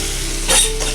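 Onions land in hot oil in a pan with prawns for a village vegetable dish, setting off a loud, dense sizzle close up that swells briefly in the middle of the short burst.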